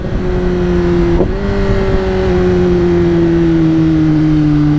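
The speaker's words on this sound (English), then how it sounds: "And that exhaust sounds nice. The Graves Motorsport exhaust." A 2021 Kawasaki ZX-10R sport motorcycle with a Graves Motorsport aftermarket exhaust drones loudly and steadily with a deep, raspy exhaust note, briefly dipping in pitch before settling into a sustained cruise on a bumpy road.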